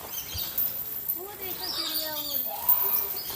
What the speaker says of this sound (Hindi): इतने सारे पक्षियों की आवाज़